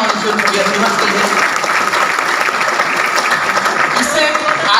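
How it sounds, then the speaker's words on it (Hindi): Loud sustained applause from an audience at an event honoring an achiever, dense clapping filling the whole stretch with crowd noise mixed in. "जोड़ो तालियां होनी चाहिए अचीवर के लिए"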